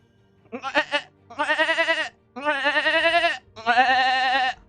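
A person's voice imitates a goat scream in four loud, wavering bleats, each held about a second with short pauses between, the later cries longer and more strained.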